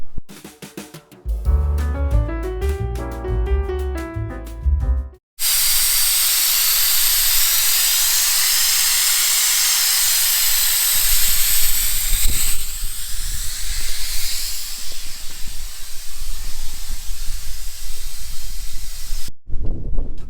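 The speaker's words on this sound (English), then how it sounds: "now I get to use my new bleeder that I bought" After a few seconds of music, a car brake bleeder tool hisses continuously and close while the brake lines are bled, running steadily for roughly fourteen seconds before cutting off.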